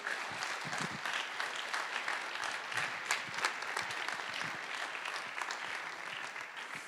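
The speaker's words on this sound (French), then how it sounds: "on peut tous s'applaudir bien fort pour ça" Dense, steady audience applause fills a political rally in Lomme, France, with many hands clapping loudly and continuously throughout, without pause or talk.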